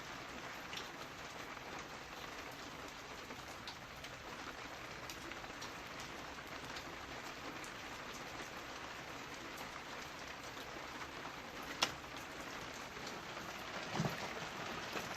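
Rain falling steadily at a vintage countryside house on a rainy afternoon, a soft continuous patter of drops on surfaces, fairly quiet and even, with a couple of brief louder taps near the end and no talk.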